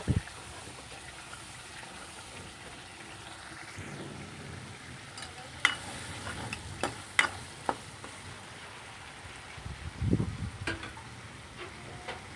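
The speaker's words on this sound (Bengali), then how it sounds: "দেখুন এগুলো আমি আস্তে আস্তে কষিয়ে নিচ্ছি" Spices and vegetables, including green jackfruit, sauté slowly in a pan over a low flame with a faint background sizzle and scattered spatula clinks and scrapes, one busier stirring burst near the end.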